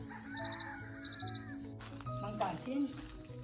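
Birds call in a quiet Konkan village, with a crow cawing and fowl-like calls heard at a distance beneath steady nearby talk.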